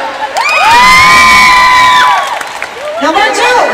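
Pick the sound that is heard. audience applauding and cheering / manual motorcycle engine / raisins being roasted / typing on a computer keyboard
audience applauding and cheering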